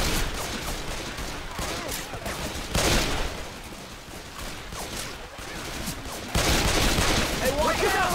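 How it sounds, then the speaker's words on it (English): Gunfire in the video game Left 4 Dead 2, a dense, continuous clatter of rapid shots that rises and falls in bursts throughout, with players' voices partly mixed into the chaotic action. "Are you shooting me?"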